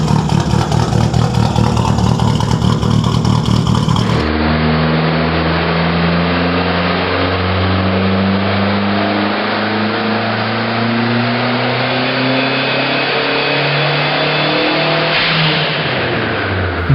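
A custom Dodge Omni on a dyno, its engine revving hard as it climbs steadily to about 4,300 RPM, loud and close with a rising mechanical drone.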